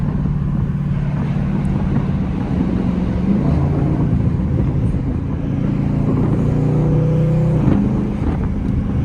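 A Dodge Scat Pack driven in manual mode with paddle shifters, its V8 droning steadily from inside the cabin, the pitch climbing and stepping as gears change.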